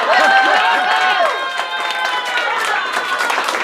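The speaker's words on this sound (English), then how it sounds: "Some applause for Mrs." A crowd at a New York cosplay cabaret cheers and whoops with rising and falling voices, then settles into a steady patter of clapping, all fairly close and loud.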